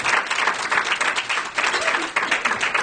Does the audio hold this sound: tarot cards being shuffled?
no